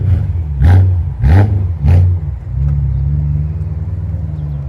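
Loud car engines rumble and rev as cars pull up at an Orange County Cars and Coffee show, with three strong revving bursts close by followed by a steady idle rumble.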